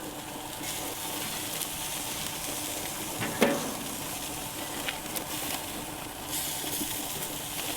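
Burger patties fry on a hot surface with a steady, even sizzle that continues throughout, accompanied by a single sharper scrape or clink midway and no talking.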